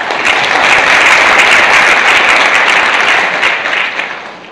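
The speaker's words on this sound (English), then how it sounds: "Let's give him a big applause." A conference audience applauds after a talk, a dense, loud burst of clapping that holds steady for a few seconds and then tapers off.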